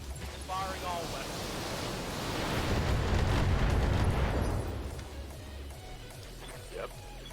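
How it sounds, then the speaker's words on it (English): Barrage of weapons fire and explosions from a mech in the BattleTech video game, a dense rumbling roar that swells to a peak midway then eases off, with game voices faintly underneath. "Firing all weapons."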